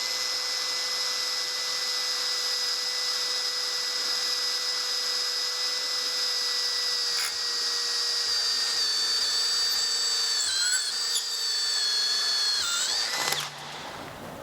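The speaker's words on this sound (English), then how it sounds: "This is 8mm stainless with the same drill." A cordless drill with a step bit cuts through 8mm stainless steel plate, a sustained, even high whine that shifts and wobbles toward the end, then cuts off abruptly as the drill stops.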